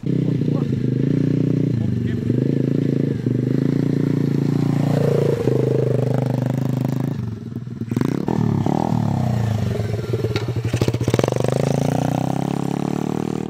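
Motorcycle climbing a snowy hill, engine revving and falling with pitch sweeps as the rider shifts gears, plus clattering and scraping, loud and close throughout, with people talking over it.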